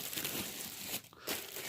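Plastic packaging crinkles and rustles continuously as a Shark cordless Pet Perfect XL vacuum is unwrapped, close up and alone, with a brief pause in the middle.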